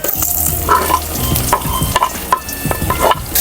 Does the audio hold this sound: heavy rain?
no